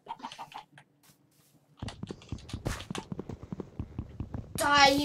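Chicken in a farming video game on a small island, short clucking bursts early, then people talking over game sounds, ending with a loud squawk-like burst.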